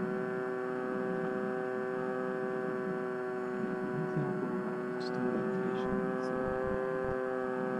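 A ZOHD Dart XL RC plane's electric motor cruises steadily at about 40% throttle, a constant droning whine with layered tones held evenly throughout, heard from a distance outdoors with faint background noise.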